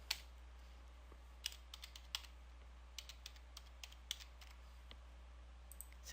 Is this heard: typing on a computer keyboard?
yes